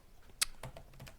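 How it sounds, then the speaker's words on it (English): Soft little clicks as a wardrobe door opens in the video game The Crimson Diamond, a quiet, brief tick standing alone against faint background. "there's just like this very soft little clicking sound when she opens these closets and drawers and things"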